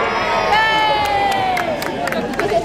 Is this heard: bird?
no